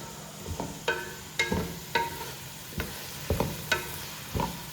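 Chilli chicken tossed with salt in a hot pan, a spoon scraping in repeated strokes roughly every half second over a low sizzle, close and fairly quiet with no voices.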